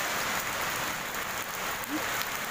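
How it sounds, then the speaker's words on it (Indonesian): Steady rain falls on surfaces outdoors, a dense even hiss of many drops close by, with no talking. "Hari hujan."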